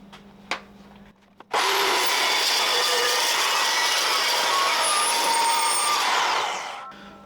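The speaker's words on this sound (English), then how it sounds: "They spin a lot slower, and it will cold cut metal like this." A loud, steady cold cut saw grinds through metal for several seconds, preceded by a few faint clicks and followed by the motor winding down.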